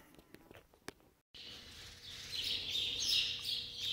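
Outdoors near a garage workshop, a bird chirps repeatedly, its bright calls growing louder and more insistent after a few faint ticks and a brief silence, with no talking.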